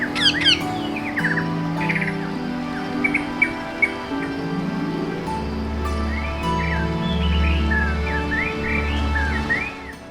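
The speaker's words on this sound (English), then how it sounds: "This parrot is about 2 months old, and the owner gave her name Tuli." Shrill chirps and squawks from a young female Indian rose-ringed parakeet kept as a pet, scattered through the clip over a steady low background hum.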